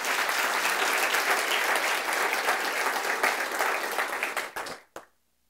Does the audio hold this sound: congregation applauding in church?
yes